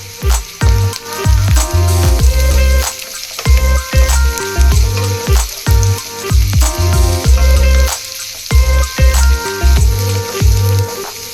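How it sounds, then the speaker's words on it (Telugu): Carrots, beans and sweet corn fry in a pan for veg fried rice, with a steady close sizzle broken by repeated stirring knocks and scrapes in a fairly regular rhythm, loud and continuous throughout. "క్యారెట్ బీన్స్ స్వీట్ కార్న్ ఇవి కూడా వేయించేసుకుని కొంచెం వెజిటేబుల్స్ అన్నీ వేగనిద్దాం"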